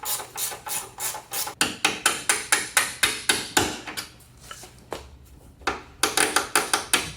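Rapid, evenly spaced metallic taps ring out close by as a small cotter pin is hammered out of a Jaguar XK150's shock absorber mount, with a brief pause midway before the tapping resumes.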